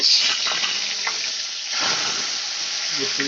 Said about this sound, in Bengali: এক এক করে আমি মাছগুলো ভেজে নেব লাল লাল করে